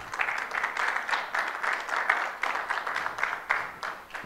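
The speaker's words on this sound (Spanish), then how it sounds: "Dele palmas al Señor." Church congregation clapping in praise during a Spanish-language sermon, a dense, steady patter of many hands filling the room for a few seconds with no talk over it.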